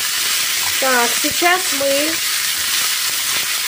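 Rice and vermicelli sizzle and fry in a pan while being stirred, for Turkish-style pilaf, a steady loud hiss throughout, with a person speaking briefly over it.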